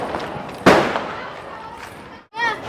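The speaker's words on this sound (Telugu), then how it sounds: "ఈసారి మా జానకి ఇస్తున్న పెద్ద బాంబు" A single sharp firecracker bang bursts out loud and close during Diwali celebrations, with voices and background noise around it.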